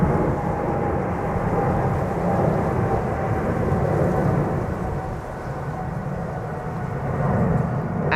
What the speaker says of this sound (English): Looking to the east, departure of a Widebody from center 777